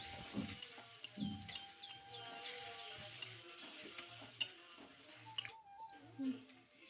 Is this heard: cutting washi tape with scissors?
no